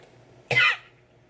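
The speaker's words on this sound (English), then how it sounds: "I don't know why I coughed like that" A single short, sharp cough from a person nearby, standing out briefly against a quiet room.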